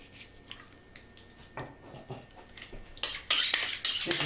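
An old Victorinox kitchen knife trimming meat, heard as soft, close cutting and scraping sounds with light clinks against a board, growing busier and louder near the end, with no talk.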